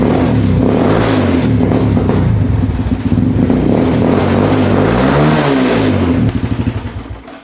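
Three-wheeler engine fitted with a cheap Temu full exhaust, revving loud and close with a deep droning tone that rises and falls, then dies away at the end.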